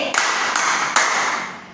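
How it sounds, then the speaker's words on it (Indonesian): A classroom of students claps in unison three times, three sharp, evenly spaced claps close by, each fading quickly. "Tepuk tiga kali"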